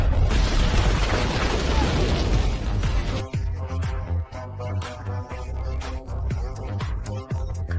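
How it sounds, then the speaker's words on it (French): A missile explosion in a Captain America action scene lets out a loud, roaring blast that rumbles and crackles for about three seconds, then gives way to thuds, debris and mechanical clatter. "Un missile. L'explosion ravage tout."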